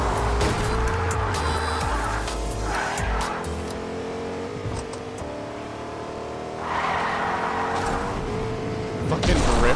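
Truck driven in Fortnite, with a steady engine drone, tire squeals and skids throughout, loud and close, while several players talk over it.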